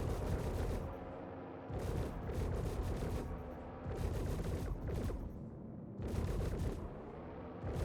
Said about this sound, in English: I'm constantly firing.